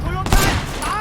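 Gunfire in the video game Sleeping Dogs Definitive Edition: a burst of sharp shots lands near the middle of a short stretch, loud and close, with game sounds and a faint voice around it.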